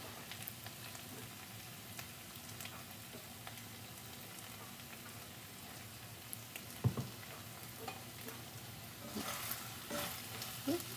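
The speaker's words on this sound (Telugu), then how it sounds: "ఇలా బాటమ్ అంతా స్క్రాప్ చేసుకుంటూ ఫ్రై చేసేసుకుందాము." Potatoes and spinach with turmeric fry in a pan with a steady, soft sizzle, while a spatula scrapes and stirs along the bottom. A few louder scrapes stand out near the end.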